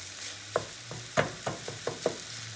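Fried rice with meat gets stirred in a pan, and a spatula scrapes and knocks in a loose rhythm of about seven close strokes over a low, steady sizzle, with no voices.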